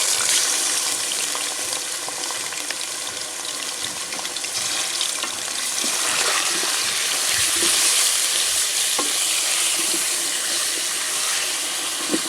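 Chicken pieces frying in about 150 ml of hot oil in a karahi for white karahi, giving a loud, steady, dense sizzle that runs unbroken throughout with no talking.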